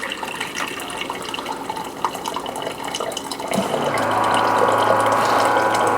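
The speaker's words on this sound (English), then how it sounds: "I'm going to get some water out of my dispenser" A ratcheting mechanical clicking from a home water dispenser gives way after a few seconds to a steady stream of water flowing into a container, growing louder and fuller, with no talking.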